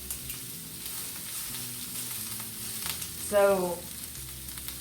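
Marinated meat seasoned with garlic and salt frying in an iron skillet, a steady close sizzle throughout with a brief louder burst partway, and a short spoken word.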